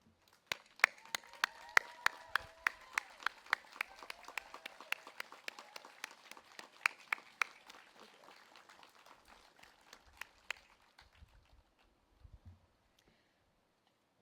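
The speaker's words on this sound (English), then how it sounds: "Would you please stand so we can honor your service with a round of applause?" Scattered applause honors military members standing at a graduation ceremony, crisp individual claps from a modest crowd in a large room, quiet and distant, thinning out and fading to silence near the end.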